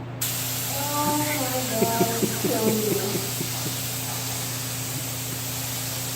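A spray gun laying down a sealer coat gives a continuous loud hiss throughout, while a voice briefly exclaims over it.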